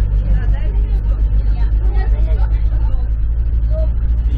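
A city bus on a street in Anapa in August, a steady low engine rumble running throughout beneath a busy babble of nearby people talking.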